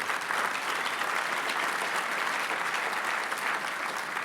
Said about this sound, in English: A round of applause for Mr. McMillan.